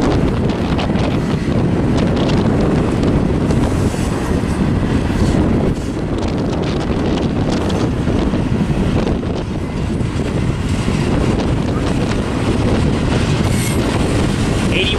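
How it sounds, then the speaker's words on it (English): An eastbound freight train out of Barstow's yard rolls past, a loud, steady broadband rumble and rail roar sustained throughout, with heavy wind buffeting the microphone. "here comes another eastbound freight about that came out of Barstow's yard"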